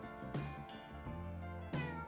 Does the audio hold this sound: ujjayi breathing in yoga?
no